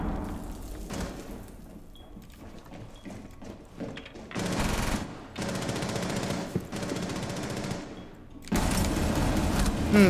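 Automatic weapon fire in the tactical shooter game Rainbow Six Siege, a first-person multiplayer match: sustained bursts rattle out loud and close, broken by short pauses and layered with in-game noise.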